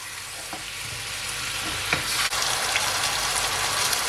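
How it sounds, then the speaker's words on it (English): Chicken curry sautés uncovered in a pan, giving a loud, steady, close frying sizzle with a few faint stirring clicks and no talking. "I'm gonna leave it, guys, uncovered for at least 4 minutes, okay? Just for the saute."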